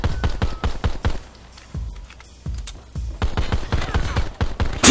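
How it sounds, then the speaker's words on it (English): Rapid gunfire in Call of Duty Black Ops 4 multiplayer cracks in quick repeated bursts, loud and close, pausing briefly near two seconds before a dense volley resumes. "Why do you keep shooting me, bro?"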